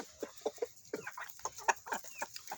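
A Plymouth Barred Rock rooster clucks softly in short, irregular bursts while pecking at plain white popcorn, close by and fairly quiet, with no talk.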